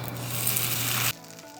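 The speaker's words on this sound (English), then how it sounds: "We're gonna try to waffle some of this egg muffin." Egg muffin tofu batter cooks in a waffle iron, giving a steady, close sizzling hiss that runs for about a second and then drops away abruptly to quiet.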